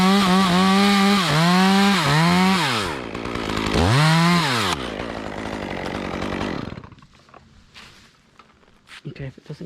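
A chainsaw cuts into a hollow, co-dominant poplar tree, loud and close. Its engine pitch rises and falls in revving surges before the saw winds down and drops away, leaving quieter rustling and knocks.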